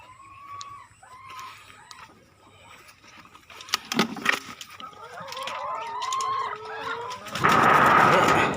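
Chickens cluck and call on a Thai duck and chicken farm, a rooster-like crow among them, with intermittent bursts of nearby noise and a loud rushing sound toward the end.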